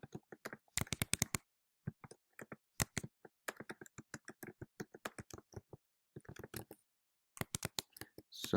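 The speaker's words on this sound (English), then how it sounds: "Sorry for my typing." Computer keyboard keys are typed in quick irregular bursts of sharp clicks with short pauses between, close and fairly quiet.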